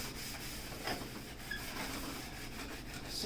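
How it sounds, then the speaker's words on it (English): A stove being scrubbed clean around its corners, a faint steady rubbing and scraping close by with light uneven strokes. "So we're cleaning our stove."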